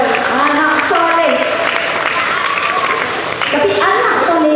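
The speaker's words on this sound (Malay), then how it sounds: "bagi tepukan pada anak-anak kita semua perempuan" Applause for the girls at a religious talk in Johor, clapping running under a loud, tonal voice that dominates over it.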